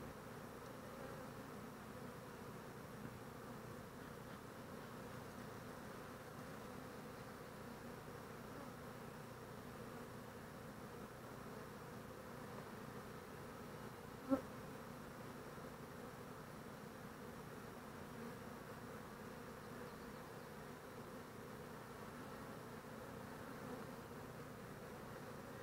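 Honey bees buzzing around an opened beehive with capped brood frames, a steady, dense drone that fills the background throughout, fairly quiet, with no talk.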